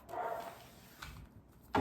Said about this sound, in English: Sorry, my dog's barking. I'm sure you could hear that.